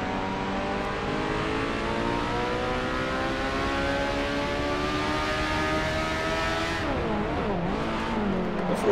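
A racing kart engine in Assetto Corsa drones loudly at high revs with a steady buzzing whine that climbs slowly, then dips and wavers near the end as the kart brakes and turns before revving up again.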